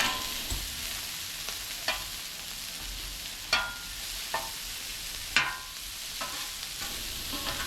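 Orange, yellow and red bell pepper strips sizzling on a flat-top griddle at medium-low heat, a steady close hiss broken by periodic scraping stirs and light clacks from a spatula.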